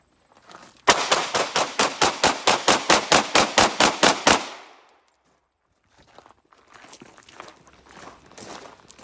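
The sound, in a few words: Sig Sauer P320 9mm pistol firing quick-draw shots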